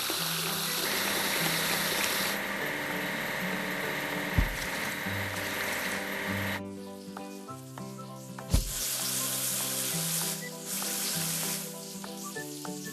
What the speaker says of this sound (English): Let's wash the crane with cargo bed.